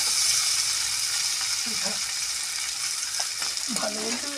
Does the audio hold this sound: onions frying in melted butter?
yes